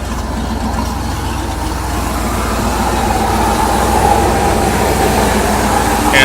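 A dying Ford Bronco idles steadily with a low, continuous engine rumble and rattle, moderately loud and unbroken throughout, with no talking over it.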